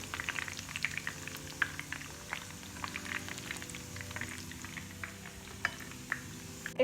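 Prawns frying in oil in a pan, a steady faint crackle with scattered sharp pops beneath soft background music, no voices.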